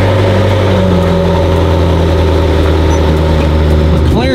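A McLaren MP4-12C engine hums steadily while the car is driven and whipped around a corner, a loud continuous drone with a rising whine near the end.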